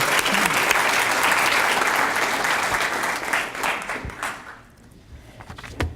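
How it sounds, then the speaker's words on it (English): A banquet audience at a high school academy and scholarship event claps warmly for several seconds, a dense steady round of applause that thins and fades toward the end, with a few last claps. "we can go ahead and give her a round of applause"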